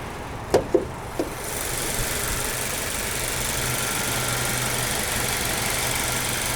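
A 2019 Volkswagen GTI's 2-liter turbocharged four-cylinder starts after a few clicks and knocks, then settles into a steady idle hum, close and even, without talk.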